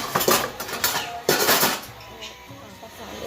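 Steel utensils and dishes clatter and clink close by at an outdoor picnic, in several sharp bursts of metallic knocking that fade into quieter handling.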